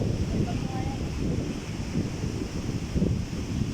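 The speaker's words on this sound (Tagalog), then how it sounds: "Malakas talaga ang hangin ngayon" Strong wind sweeps across a beach at El Nido, Palawan, with a stormy feel. It buffets the microphone with a steady low roar and rumbling gusts close by.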